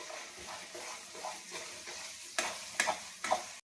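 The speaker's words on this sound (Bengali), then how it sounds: "হয়ে গেল, এটা আমি ভালো করে ফ্রাই করে নেব।" A ground green pea kachuri filling fries in a pan with a soft sizzle, punctuated by several sharp scraping and clinking strokes of a spatula near the end.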